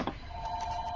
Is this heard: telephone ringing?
yes